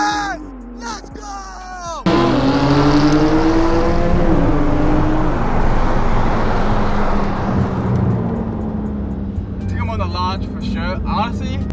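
Porsche 911 GT2 RS launching from a launch-control start in a race against an Audi R8, a loud, close engine roar that surges and climbs through gears before fading, with excited voices shouting before and after.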